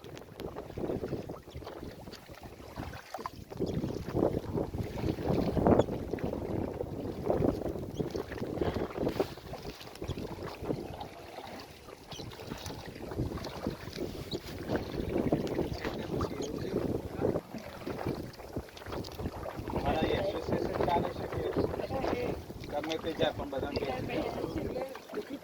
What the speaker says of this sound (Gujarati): બોટવાળા કાકા બહુ મહેનત કરીને હલેસા મારી